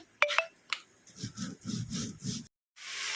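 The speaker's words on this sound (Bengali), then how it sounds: "হতে হতে শিলে বেটে নেওয়া হচ্ছে মশলাটা" Spice paste is ground by hand on a flat grinding stone, a close rhythmic scraping of stone on stone in about five back-and-forth strokes, with a few sharp knocks before them and no talking.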